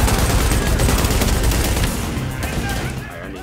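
Rapid, loud, close gunfire from light machine guns in the video game Tom Clancy's The Division, a dense burst that tapers off toward the end.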